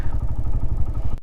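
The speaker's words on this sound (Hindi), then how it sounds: "मैं मोटरसाइकिल बड़ा स्लो चला रहा हूँ" A motorcycle in poor repair, ridden slowly through the Chunda Valley near Skardu, chugs with a loud, close, rhythmic engine pulse and clattering thumps that stop abruptly at the end.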